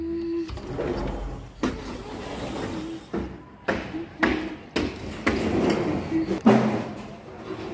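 Construction work nearby produces a series of about eight sharp hammering knocks and thuds at irregular intervals, moderately loud over a steady background hum.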